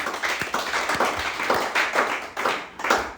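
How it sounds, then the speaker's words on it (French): A church congregation in a local church claps for the ushers: a steady, brisk round of hand claps with rising and falling waves, close and fairly loud, with no talk over it. "applaudissons quand même pour eux."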